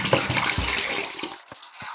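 Water runs and splashes continuously from a tap while more water is fetched to fill a Consul floral 7 kg washing machine, a bright rushing stream that tapers off near the end with a few small drips.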